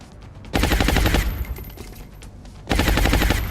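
Rapid-fire gunshots from XCOM Long War: two loud, dense bursts of automatic-sounding fire, the first lasting about a second and the second cutting in near the end, separated by a quieter stretch of game ambience.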